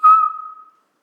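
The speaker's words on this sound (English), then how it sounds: "He had to suck in and whistle." A single whistled note made by sucking air in rather than blowing, a clear tone lasting under a second that starts strong and slowly fades, heard alone with no talk.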